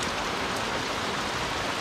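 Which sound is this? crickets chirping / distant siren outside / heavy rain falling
heavy rain falling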